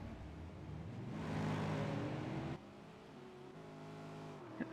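A V8 Supercar racing at Sonoma in a racing video game, with Scott McLaughlin at the wheel on a qualifying hot lap. The engine howls steadily as it accelerates through the gears, with a clear gear change midway.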